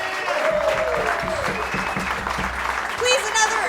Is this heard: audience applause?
yes